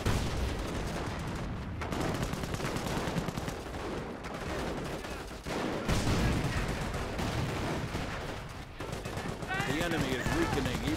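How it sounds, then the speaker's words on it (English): A .30 cal machine gun fires in Company of Heroes, with repeated bursts of automatic fire, scattered rifle shots and occasional booms, under a commentator's steady talk. "Capture 30 cal firing away with the bolt action escort model"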